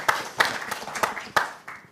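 A few people in the audience at a marine protected area symposium clap for a presenter, about six sparse, separate claps spaced unevenly, close and modest in volume.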